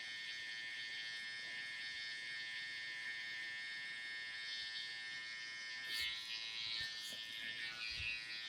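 Babyliss FX Pro hair clippers run in a steady, close electric buzz throughout a skin fade cut, with brief bumps and scraping changes near the end as the blade meets the head.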